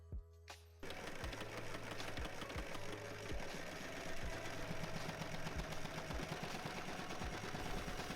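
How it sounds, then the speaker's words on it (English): A sewing machine stitches a seam on a skirt made from upcycled jeans, starting after a brief pause and running steadily with a fast, even mechanical whir and regular needle thumps. "I'm just going to sew all along it"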